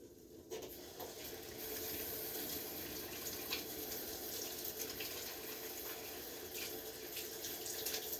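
A kitchen tap runs in a steady close stream while hands are washed, an even hiss with small splashes and no talking.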